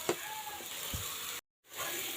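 Cumin paste and garlic paste sautéing in a pan for an egg curry give a steady, close sizzling hiss, broken by a brief silent gap near the end before the frying resumes.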